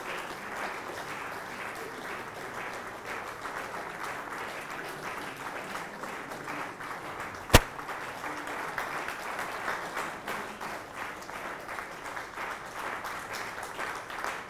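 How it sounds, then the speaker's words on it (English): Sustained applause from a seated audience at an annual symposium, honouring the Kabiyesi (a traditional ruler): steady, dense clapping that holds without pause, with one sharp single clap standing out midway. "Do not be tired of clapping for the Kabiyesi,"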